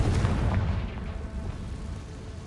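The Confringo fire spell exploding in a wizarding video game: a heavy, rumbling blast with deep low-end boom that slowly fades over a couple of seconds, with no voice over it.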